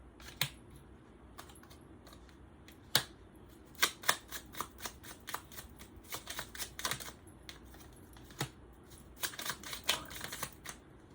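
A deck of cards shuffled by hand at close range, with crisp irregular clicks, snaps and riffling bursts over about eleven seconds, quiet and with no talking.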